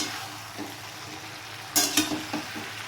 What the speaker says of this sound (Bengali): হালকা ভাজা ভাজা করবো ঢ্যাঁড়সটা কিন্তু বেশি ভাজবো না